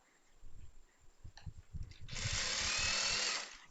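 A sewing machine stitching a churidar runs in one short, steady burst near the end, preceded by soft handling and rustling of fabric, with no voice in the clip.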